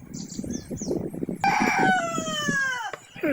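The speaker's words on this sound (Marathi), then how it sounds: "हा पण कोंबडा मस्त आहे" A village rooster crows loudly once in a long, drawn-out call, preceded by softer clucking and hen chatter nearby.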